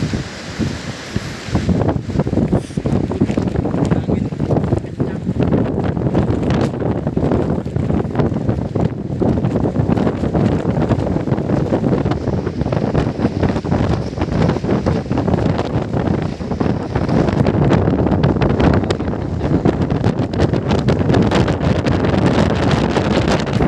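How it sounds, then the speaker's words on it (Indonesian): Strong, gusting wind buffets the microphone on a mountain ridge on the Wilis route toward Ngliman peak, a loud continuous roar with rustling surges and no pause for over twenty seconds. "Dan angin sangat kencang."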